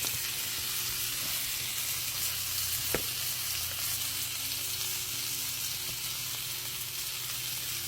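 Seasoned filet mignon sizzles in a pan as a steady, even hiss, close and moderately loud, broken once by a brief sharp tap, with no voices.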